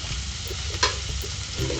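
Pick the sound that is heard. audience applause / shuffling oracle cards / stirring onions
stirring onions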